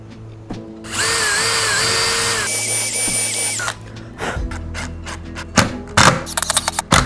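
A power drill whirs loudly while driving screws into glued plywood wedges, a sustained pitch-shifting run of about three seconds, followed by several sharp knocks and short thuds close by.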